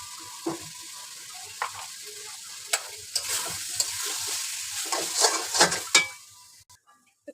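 Ground spices being stirred into sidol curry in a hot pan, with a steady sizzle and repeated scraping and clinking of a spoon against the metal, growing busier before stopping abruptly.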